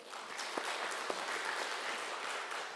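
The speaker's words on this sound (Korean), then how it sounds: "하나님께 우리 영광의 박수 돌려드릴까요?" A church congregation applauds during a Sunday worship service, a steady wash of many hands clapping at moderate, even loudness across the whole stretch, with a few sharper individual claps standing out.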